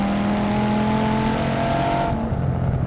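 A 568 wheel-horsepower Dodge Viper SRT-10 engine accelerates hard at full throttle in third gear, a loud, continuous, close-up roar with steady droning harmonics, cutting off abruptly near the end.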